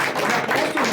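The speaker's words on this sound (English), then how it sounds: "Give me a round of applause, ladies and gentlemen." Audience at a talk-show style interview claps briefly, a short dense burst of applause at moderate loudness with no voices over it.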